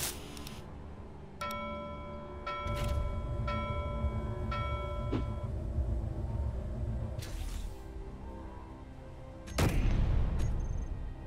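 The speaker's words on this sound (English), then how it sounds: "We're shooting again." Weapon gunfire in Space Engineers, a few sharp, spaced bursts against a steady mechanical hum and tonal machinery whine, the loudest blast arriving near the end.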